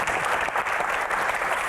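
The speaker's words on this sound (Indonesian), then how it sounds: "Tepuk tangan buat Aco" Dense, steady audience applause fills the room for a guest celebrating a hit film, close and continuous throughout the short burst, with no voices over it.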